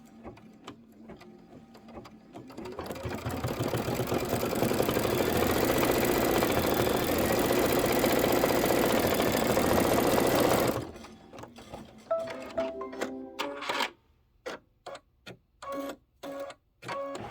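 An embroidery machine stitches placement lines for a pillow block, a loud, steady mechanical whir that runs for about eight seconds, then stops and gives way to intermittent clicks and short bursts.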